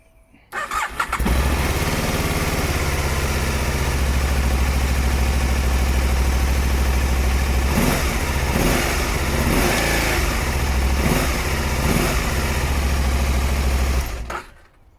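Aprilia ETV1000 Caponord motorcycle engine fires up and runs loud and close, a steady lumpy idle broken by several short revving blips in the middle before it cuts off near the end.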